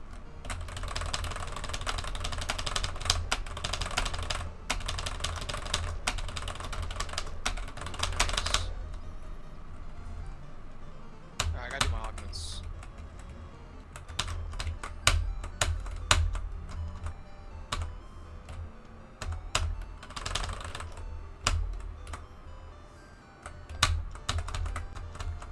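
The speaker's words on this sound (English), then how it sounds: "I'm typing on my typewriter." Rapid, uneven keystrokes clatter on a keyboard up close in bursts, with a pause partway through and a few louder clicks and thumps mixed in.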